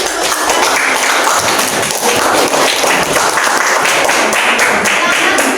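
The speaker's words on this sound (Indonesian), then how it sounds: "berikan tepuk tangan" A classroom audience applauds, with dense, steady clapping from many hands that stays loud and even throughout.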